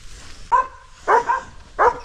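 Two guard dogs at a rural home below the Lakatnik rocks on the Kom-Emine trail bark three times, loud, close and evenly spaced, with short quiet pauses between barks.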